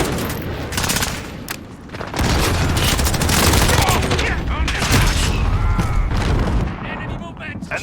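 Heavy gunfire and booming blasts fill a shooter video game, with dense, continuous bursts of shots and explosions running loud through the whole stretch.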